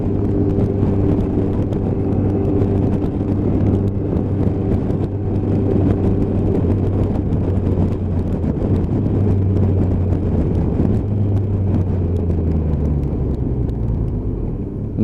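Motorcycles on a road during an advanced rider training ride, one of them a small Lexmoto ZSB, giving a continuous low engine drone with heavy wind rumble against the microphone and no talk.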